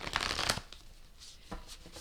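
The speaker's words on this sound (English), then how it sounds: "I'm going to move these up so I can shuffle proper." A deck of tarot cards riffled and shuffled by hand, a quick burst of crisp card flutter up front, then softer slides and taps near and alone.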